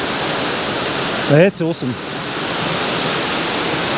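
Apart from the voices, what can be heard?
Thac Tinh Yeu waterfall rushing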